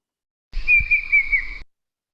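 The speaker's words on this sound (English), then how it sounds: "That's our banded bay cuckoo from earlier." A single sustained, wavering whistled phrase from a banded bay cuckoo, clear and close and lasting just over a second against silence.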